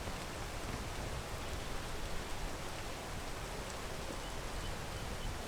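Rain in a video game falls as a steady, dense hiss of pouring water with no clear gaps or individual drops, quiet and even throughout.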